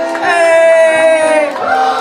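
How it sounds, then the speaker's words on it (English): At an acoustic music night, a crowd lets out a loud, sustained cheer with drawn-out whoops and yells, close and dense, dipping briefly before another shout rises at the end. "Round of applause for Stevie, because Stevie's going to accompany us on t"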